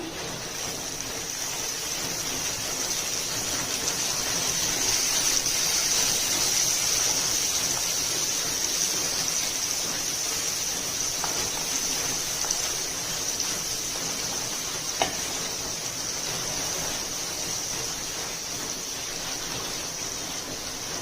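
Onion frying in a pan with oil, garlic already in, for a fenugreek and dill leaf dal; a steady, loud sizzle hisses continuously for about twenty seconds, close up, with a faint clink midway.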